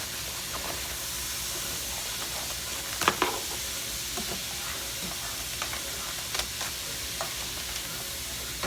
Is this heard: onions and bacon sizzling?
yes